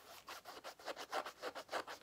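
A zipper on a nylon bag compartment is pulled back and forth in quick strokes, giving a rhythmic series of rasping zips, close and fairly quiet, with no voices.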